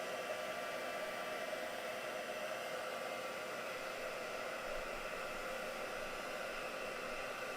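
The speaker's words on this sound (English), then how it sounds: "I just blasted it a little bit more with my heat tool." Handheld heat tool blowing over gel medium on canvas, a steady airy whoosh with a faint motor whine that stays constant and close throughout, with no talking.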